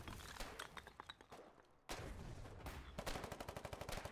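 Gunfire in the war game Foxhole: sharp shots and rapid volleys, some close and loud, others more distant, ending in a fast rhythmic burst of automatic fire.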